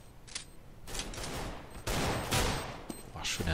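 Gunfire bursts from a Counter-Strike match on the de_dust2 map, a dense run of rapid rifle shots with loud broadband cracks, thickening after the midpoint and continuing to the end, close and sustained.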